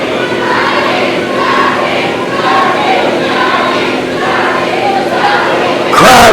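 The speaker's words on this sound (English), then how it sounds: "Crowd coming alive here." A wrestling crowd in Greenwood, Arkansas cheers and yells in a hall, with a broad, steady roar of many voices swelling in waves and a sudden louder burst at the end.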